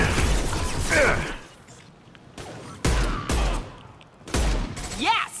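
Heavy weapon fire in Mass Effect 2 lands as several sharp, booming blasts separated by brief pauses, with mechanical clanks between them and a voice talking nearby.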